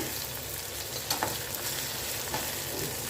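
Green chilies sautéing in a pan for a tamarind chili dish give a steady, moderate frying sizzle with faint stirring clinks, and no one speaks.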